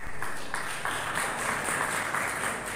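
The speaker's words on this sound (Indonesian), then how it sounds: "Ya, tepuk tangan." Audience applause at a church regional leadership gathering in Central Java, a steady wash of clapping from a crowd that holds at moderate level for a few seconds and then stops abruptly.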